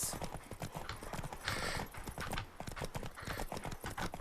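A horse gallops in The Witcher 3, with rapid rhythmic hoofbeats at close range, loud and continuous throughout.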